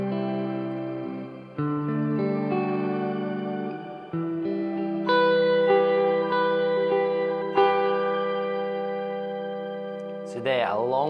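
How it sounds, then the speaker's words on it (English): Sustained electric guitar chords wash out in a shimmering octave reverb, each note blooming into long airy tails with a bright pitch-shifted layer above. "jumping over to the octave reverb"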